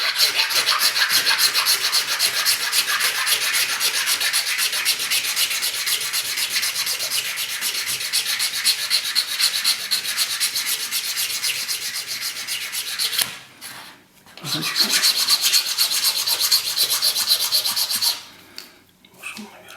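Sandpaper rubbed back and forth over a small 3D-printed plastic model to remove layer lines, a close, continuous rasping scrape with two brief pauses, no talking.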